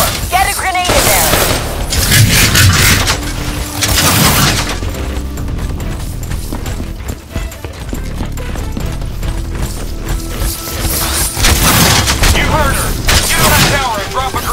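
Grenade blasts and rapid gunfire in the Call of Duty Black Ops 3 campaign mission Hypocenter, loud and dense, with bursts of shooting and heavy booms rolling through the whole stretch, over a constant battle din.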